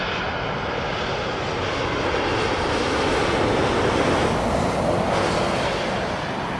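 Jet engines of an airliner at London Heathrow, a loud, sustained roar with a wide, dense rumble that swells slightly midway, heard close by from an outdoor spotting location with no talking.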